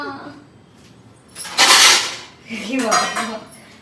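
Metal cooking pots clank and scrape as food is moved into a large vessel in a home kitchen preparing a vada and payasam feast, with two loud bursts of handling over a quiet background.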